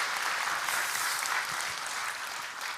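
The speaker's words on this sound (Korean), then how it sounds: "인사하실 때 박수해 주실까요?" A church congregation applauds during a Sunday worship service, with a steady, dense wash of clapping from a large crowd throughout.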